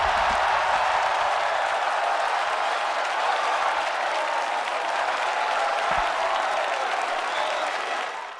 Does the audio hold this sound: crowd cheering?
yes